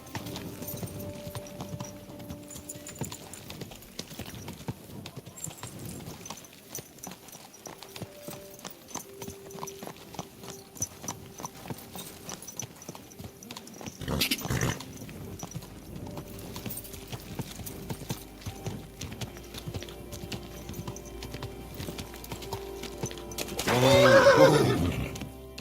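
Horse hooves clip-clop steadily through a medieval setting in the video game Kingdom Come: Deliverance 2, soft and close, with a louder whinny rising near the end.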